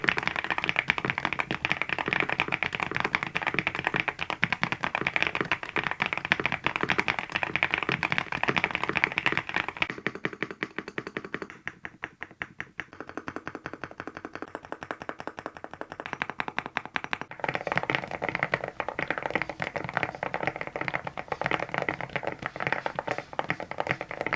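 Typing on a mechanical keyboard fitted with white-on-black ABS keycaps in Cherry profile, a dense, continuous clatter of rapid key presses that thins briefly midway before resuming at full pace, with no voices.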